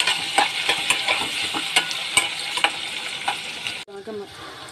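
Onions frying in a pan for bendakaya pulusu. A loud, close sizzle runs with stirring scrapes and taps, then cuts off near the end, leaving a brief quieter tail.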